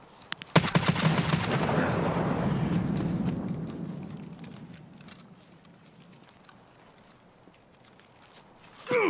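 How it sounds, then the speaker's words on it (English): A rapid burst of automatic gunfire in the video game Escape From Tarkov, loud and close, rattles briefly and then rolls into a long echoing tail that fades to quiet. "Is he not shooting me?"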